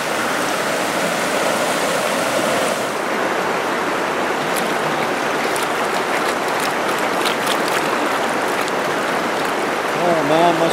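Heavy rain pours down steadily at a gold prospecting site, a dense, continuous hiss close by with no breaks.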